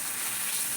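Jowar and moong dal dosa batter sizzles on a hot iron pan, a brief steady hiss heard close and alone.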